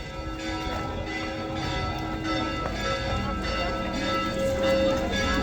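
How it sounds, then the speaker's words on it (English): Church bells ring steadily with sustained, overlapping tones, heard from a moderate distance on the Mount of Olives during the Orthodox Palm Sunday procession, over faint background noise. "You can hear the bells of a different place."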